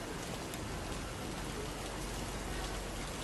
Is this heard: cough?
no